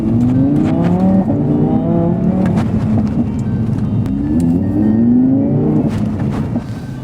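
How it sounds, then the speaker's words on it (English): A Zedro Trifecta supercar accelerates hard, its engine note climbing in repeated rising sweeps through the gears, loud and close with no talk over it. "All right, let's give it a little acceleration here."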